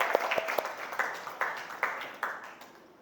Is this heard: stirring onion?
no